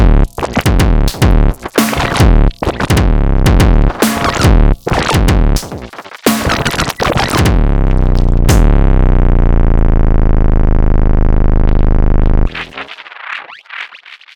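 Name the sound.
Elektron Syntakt drum pattern: kick, snare, hi-hat and noise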